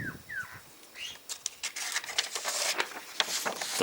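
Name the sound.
birds flying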